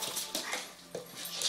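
A young puppy of a breed expected to grow to Saint Bernard size or larger whimpers and whines indoors in a string of soft, high, close cries.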